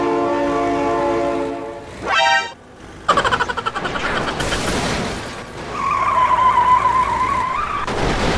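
A train in the BeamNG Drive driving game sounds a loud, sustained multi-tone horn as it approaches. A rising whoosh follows, then rattling impacts, skidding and a rough, roaring rush as it passes close by.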